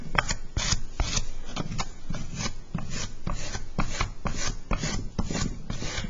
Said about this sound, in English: I'm going to take my rib and just kind of go over that with my rib and make sure that I smooth that out.